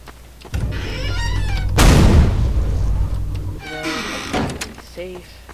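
A heavy video-game explosion from Garry's Mod: a boom erupts after a brief mechanical lead-in, followed by a rumbling decay and a second, softer rush of noise; loud and close.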